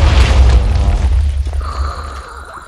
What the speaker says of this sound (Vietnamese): Nghe giống như có cái gì nổ cái đùng nữa